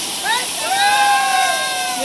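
Ghatarani waterfall in Gariyaband roars as a steady, broad rush of falling water, with someone talking over it close to the microphone.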